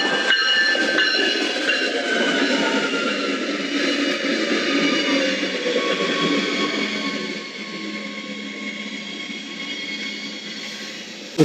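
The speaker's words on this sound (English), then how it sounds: "you're gonna see the train that I had to take every day to and from work" A train rumbles past steadily nearby, with rolling wheel noise and faint high squeals, easing slightly quieter toward the end.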